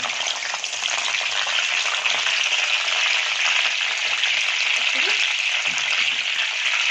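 Curry leaves fry in hot oil, giving a bright, steady sizzle and crackle that runs evenly throughout at close range.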